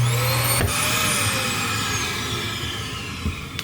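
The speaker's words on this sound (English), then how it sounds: "Central vacuum system, so that's on the top. And then you have the floor sweep down on the bottom" An RV central vacuum system with a floor sweep inlet in a 2021 Montana 3763BP fifth wheel trailer runs as a steady, close suction whine with airy hiss, droning continuously without talk.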